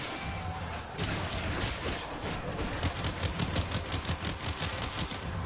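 Pistol gunfire in the video game Warframe, with a burst of rapid, closely spaced shots crackling in a quick rhythm over loud, busy game noise, no talking.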